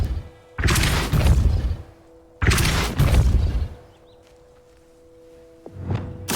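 Depulso spell cast in Hogwarts Legacy: two loud, booming magical blasts about two seconds apart, each a broad rushing burst that fades. A quieter hum and a faint third impact follow near the end.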